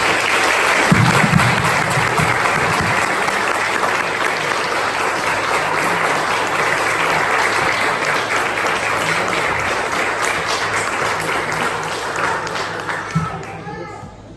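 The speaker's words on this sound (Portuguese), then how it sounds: "Vamos dar uma salva de palmas." A church congregation applauds while welcoming new members, a long, loud and steady wash of clapping from a large crowd, with some murmured voices and a voice mixed in before it slowly dies down.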